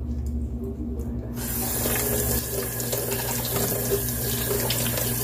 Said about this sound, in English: Just going to rinse them off.